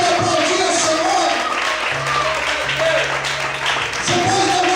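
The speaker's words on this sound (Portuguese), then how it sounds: "Será que você pode aplaudir o Senhor?" A church congregation claps in praise during a lively evening worship service, steady broadband applause filling the space with voices and music underneath.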